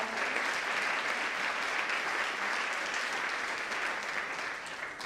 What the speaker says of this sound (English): You can clap for her again so she's up there.